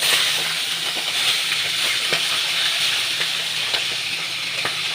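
Tilapia pieces coated in salt and turmeric, fried in hot oil with a dried red chilli, give a steady, dense, close sizzle with faint crackles throughout and no talk.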